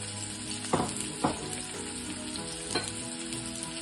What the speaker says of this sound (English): you're going to add your onions. Let that soften and go golden brown.